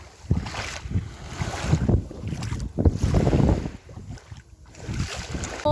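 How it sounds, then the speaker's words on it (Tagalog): Sea waves wash in on a beach in several soft, rolling surges under steady wind buffeting against the microphone. "Sarap pakinggan ng hampas ng dagat."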